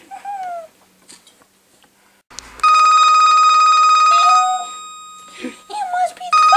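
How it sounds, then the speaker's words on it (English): A cartoon telephone rings loudly for about two seconds after brief cartoon voices, which come back once the ring cuts off. "It must be the phone!"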